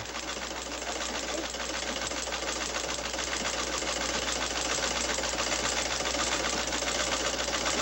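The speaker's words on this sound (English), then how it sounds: "just take the old sewing machine and run it on the sewing machine" A 67-year-old sewing machine runs steadily and alone, its fast mechanical clatter forming an even, continuous whir with a low motor hum underneath.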